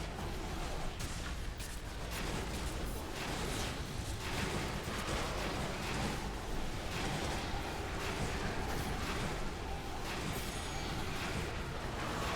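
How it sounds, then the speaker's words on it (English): A fireball spell in a dungeon video game sets off a loud, continuous roaring blast that rumbles and crackles evenly for several seconds with no let-up. "Here goes the fireball."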